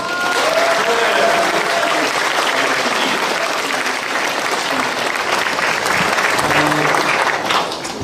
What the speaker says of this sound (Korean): 여러분 마음 편하게 이야기를 진행하라는 의미에서 격려의 박수 한번 부탁드리겠습니다